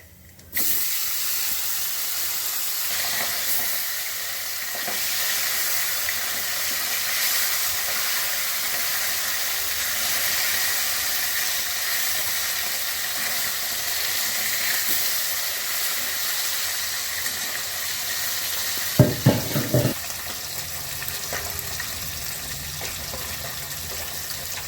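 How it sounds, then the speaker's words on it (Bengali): Bata fish fry in hot oil with a black cumin tempering, making a steady, even hiss throughout, with a brief louder burst of crackling near the end. "এবার কালো জিরেটা ফোড়ন করে দিচ্ছি"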